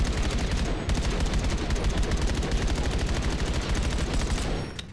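A rifle in Black Ops 7 fired in rapid bursts, a dense, loud, unbroken rattle of close shots that runs almost the whole time before cutting off at the end.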